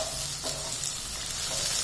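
Tempering seeds and onions fry in a little oil for bread upma, giving a steady close sizzle with soft stirring throughout.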